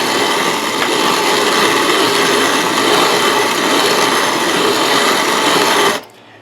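A Country Living hand-cranked grain mill grinds wheat into flour with a continuous coarse gritty rasp, close and loud, steady for about six seconds before stopping abruptly.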